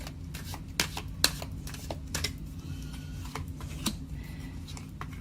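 Tarot cards are shuffled close up, soft papery riffles and scattered taps in an irregular rhythm, quiet with a low hum underneath.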